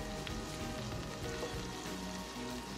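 Eggs cooking in melted butter in a pan over low heat, a steady close sizzle and crackle running throughout with light scraping as they are stirred and mixed.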